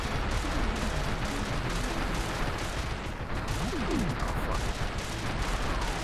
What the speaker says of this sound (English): I can't move when I'm shooting rockets